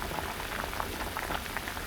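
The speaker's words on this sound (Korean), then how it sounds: "5분 후 파 넣고 2분 더 보글보글 끓이면" Soft, steady bubbling of Korean radish and bean sprout soup simmering in a pot, a continuous low burble with faint popping, no voices.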